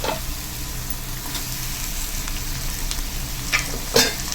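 Onions and tomatoes sautéing in a pan for an egg curry give a steady close sizzle and fry hiss, with occasional clinks of a stirring spoon against the pan, and no talk.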